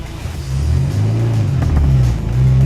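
Car accelerating hard on a motorsport cone course, its engine a loud, close, rising rumble with a brief dip as the wheels spin, no voices heard.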